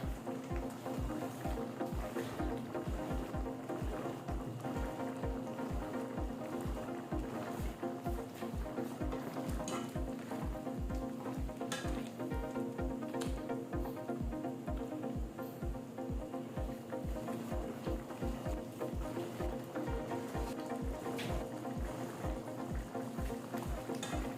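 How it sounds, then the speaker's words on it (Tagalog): Coconut milk simmering and reducing in a pan for shrimp and anchovies with chicken, a steady, even bubbling and hiss that holds at the same level throughout with a faint rhythmic pulse. "Yan lang po natin kumulo. Magre-reduce yung ating coconut milk."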